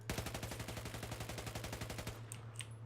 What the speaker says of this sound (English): Let's take a look at the hip fire pattern.